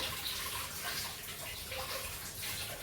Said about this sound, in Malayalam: ശരിക്കും വാഷ് ചെയ്ത് ഇങ്ങനെ മുഴുവനായിട്ട് ഇങ്ങനെ തന്നെ കഴുകണം കേട്ടോ